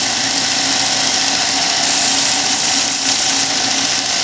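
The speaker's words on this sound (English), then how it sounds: "I just wind up the grinder" An angle grinder cleans up old fittings for a 1980 Triumph TR7, giving a loud, steady high-pitched whine and grinding roar that runs unbroken from start to finish.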